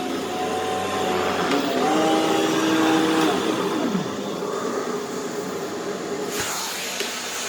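A cordless power head on a retractable-hose central vacuum runs with a loud, steady whirring roar, its pitch shifting slightly as it is guided across the floor.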